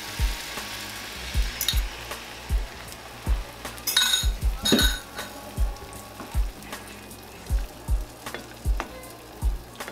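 About five lightly salted and peppered eggs fry in a pan, giving a soft continuous sizzle broken by repeated sharp clinks and taps of a utensil against the pan, close and fairly loud.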